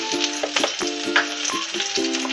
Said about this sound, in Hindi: पैन में हम थोड़ा सा ऑयल डालेंगे, उसमें ग्रीन चिली, इसको फ्यू सेकंड्स के लिए सॉटे कर लेंगे।